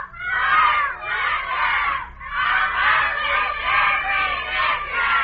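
A crowd of young cadets in a ready room yells a slogan together, a loud sustained group shout in two long surges with a brief dip between them.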